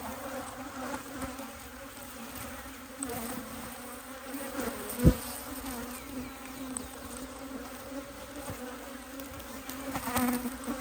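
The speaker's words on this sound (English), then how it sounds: "Looks like a lot of these bees are hatching at the moment." A low, steady buzz of many honeybees droning close by in an open hive, with a brief sharp knock partway through.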